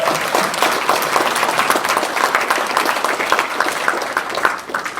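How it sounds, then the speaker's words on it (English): Steady audience applause fills a Founders Day banquet hall after a toast to Jen, the dense clapping holding evenly for the full stretch without a break before it eases slightly at the end. "How about a round of applause for Jen?"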